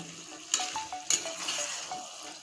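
Spiced chicken kosha being stir-fried in a pan, with two sharp utensil strikes against the pan over a low steady sizzle and faint scraping, close and with no talking.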